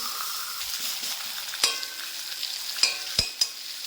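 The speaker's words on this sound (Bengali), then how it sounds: "প্রায় পেঁয়াজটা ভাজা হয়ে গেছে" A soft sizzle of onions frying runs under scattered sharp clicks and scrapes of a spatula against the pan, a few louder knocks near the end.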